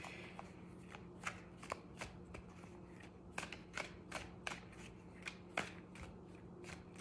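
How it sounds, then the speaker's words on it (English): A Hermetic Tarot deck is shuffled by hand before a card is pulled, giving a quiet, uneven run of crisp card flicks and soft riffling slaps over a low steady hum, with no talking. "I'm going to pull a card from my Hermetic Tarot."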